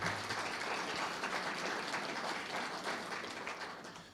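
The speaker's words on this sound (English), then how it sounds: "I'm going to give you a round of applause" A room full of people at a district community meeting gives a round of applause, with dense, steady clapping at a moderate level throughout and tapering slightly at the end.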